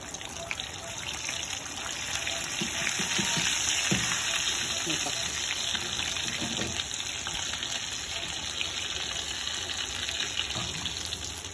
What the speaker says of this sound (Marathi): थोडा त्याचा गोल्डन कलर येईपर्यंत आपण फ्राय करून घेऊया